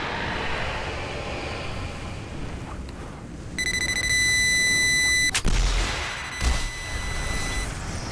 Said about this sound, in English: let's see what we can do with this rocket lock on